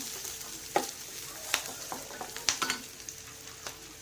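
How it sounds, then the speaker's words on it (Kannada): Garlic and ginger frying in a pan for a beans kalu curry give a quiet, steady sizzle broken by scattered sharp crackles and pops, with no talking. "ಬೆಳ್ಳುಳ್ಳಿ ಮತ್ತು ಶುಂಠಿ ಹಾಕೊಂಡು ಫ್ರೈ ಮಾಡ್ಕೊತೀನಿ ಚೆನ್ನಾಗಿ."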